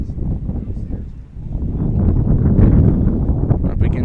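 Strong wind buffets an outdoor microphone at an evening baseball game in Raymondville, a loud low rumble that swells and grows heavier midway while a voice talks underneath.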